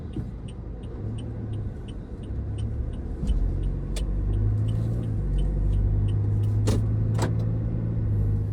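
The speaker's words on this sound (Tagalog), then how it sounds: "Ito, mabibilis kotse." Fast cars passing on a road in Las Piñas, a steady traffic rumble with several close swooshes building and fading, loud and continuous with no talk.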